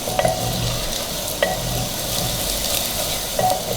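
Sliced onions frying to light golden for a mutton handi, a steady sizzle in the pot broken by a few sharp clinks of a spoon against the metal, close up and without voices.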